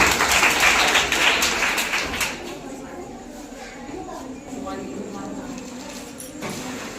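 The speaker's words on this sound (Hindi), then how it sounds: "चलो जोरदार ताली" A group claps loudly in a classroom lesson, a dense burst of applause for about two seconds that then thins to scattered claps under talking.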